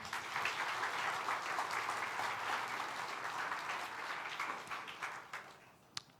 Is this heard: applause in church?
yes